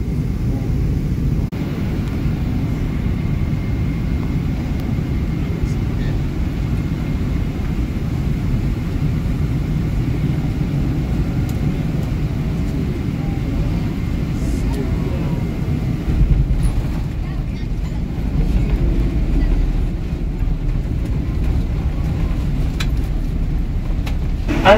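Airliner cabin during a landing at Washington Dulles airport: a steady, loud low rumble of engines and airflow throughout, with a slight bump and shift in the noise near the end.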